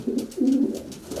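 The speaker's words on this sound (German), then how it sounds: "hauptsächlich die alten Reisetauben finden in diesem Schlag hier Platz" Racing pigeons cooing inside their loft, a few soft, throaty coos in quick succession, close and fairly loud with no voices.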